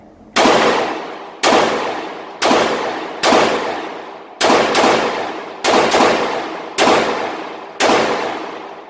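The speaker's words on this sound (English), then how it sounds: "We'll put some more rounds through it and see if we can knock off the other one." Nine sharp, loud Walther Creed 9mm pistol shots are fired at roughly one-second intervals, each a hard crack followed by a ringing decay, with no talking.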